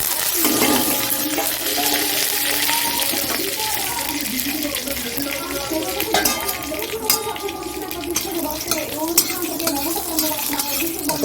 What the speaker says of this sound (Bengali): এইখানে ফোরনের জন্য একটু পাঁচফোড়ন নিয়েছি কারিপাতা নিয়েছি আর শুকনো লঙ্কা নিয়েছি দিয়ে দিচ্ছি